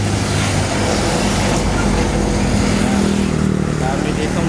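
Traffic passes on a road toward Indang near Naic, Cavite: a steady, loud roar of cars and motorcycles that continues without a break, with engines droning close by.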